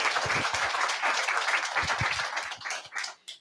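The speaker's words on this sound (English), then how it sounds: "So give an applause to him" Audience applause at a Sunday church service, a dense, steady wash of many hands clapping close and loud, thinning out into a few scattered claps at the end.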